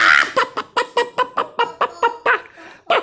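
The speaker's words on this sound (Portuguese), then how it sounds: "Lá vem a galinha, lá vem a galinha." A chicken clucks in a rapid, evenly spaced run of about a dozen loud, close clucks, with a short pause near the end before one more.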